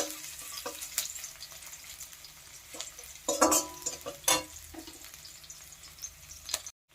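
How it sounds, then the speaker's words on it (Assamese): Onion frying in hot oil in a pan for an Assamese fish curry, heard as a steady close sizzle with a few louder scraping stirs, with no talking. "পিঁয়াজটো অলপমান ৰঙচুৱাকৈ ভাজি ল'ম।"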